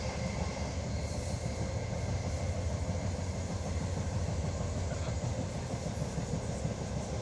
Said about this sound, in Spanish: Mientras el tren traquetea, ya pasado el extrarradio de Huesca